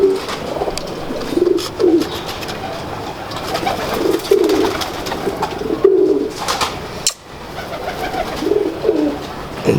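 Pigeons coo in soft, low, repeated throaty calls at a fairly steady rhythm, close by, with rustling and background noise around them.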